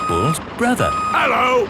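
Rapid cartoon reversing beeps from a road-building vehicle at a demolition site, a loud repeating high bleep running under two characters' short spoken greetings.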